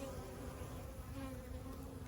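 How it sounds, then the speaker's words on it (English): Honeybees in a queenless nuc colony full of drones give a steady, low, faint buzzing hum that continues without a break and with no voices. "The bees are a bit more testy."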